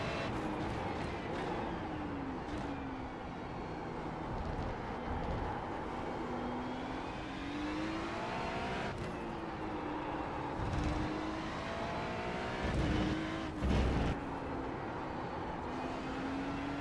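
A Ferrari 296 GT3 race car engine in the iRacing sim at Okayama, a steady loud drone that rises and falls in pitch through gear changes, with a few brief bursts near the end and no talking.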